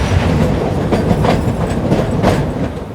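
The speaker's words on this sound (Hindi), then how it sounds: "तो हमारी ट्रेन जो है वो अभी जस्ट निकली है फुलाद से" A heritage meter gauge train climbing through the Aravalli hills toward Goram Ghat rumbles steadily, with a continuous loud roar of wheels and rhythmic clickety-clack on the rails.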